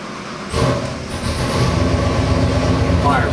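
A 1939 Ford coupe's 347ci small-block Ford stroker V8 cranks and fires at about half a second, then settles into a loud, steady, rumbling idle close by.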